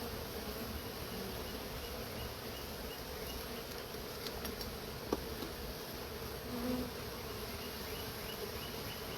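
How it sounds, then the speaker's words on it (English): Honey bees buzz steadily around a hive as they crawl up its side, a continuous close insect drone with no talking. "watching those bees crawl up the side"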